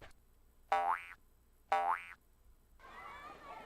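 Springy boing jump effect from the 1997 Living Books game Arthur's Reading Race, heard twice in a row with a short pause between, each a bright bouncy twang that rises and falls, followed by a soft hiss.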